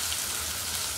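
Dried mola fish frying in a pan, a dense, steady crackling sizzle like light rain, close and continuous for the whole short moment.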